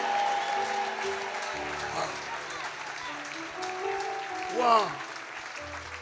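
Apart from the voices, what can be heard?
applause from church congregation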